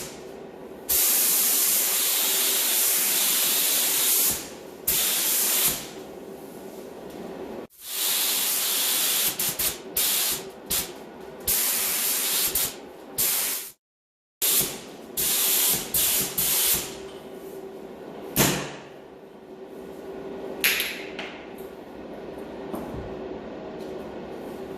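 A paint spray gun at 1 bar mists paint in long, steady hissing passes, loud and close, broken by brief pauses and a few sharp cutoffs.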